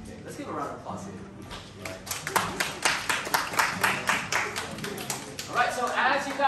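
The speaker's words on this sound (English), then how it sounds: "let's give a round of applause here." A congregation applauds during a Monday morning church service. Scattered claps build into a loose rhythmic patter at moderate distance, with voices talking and murmuring throughout.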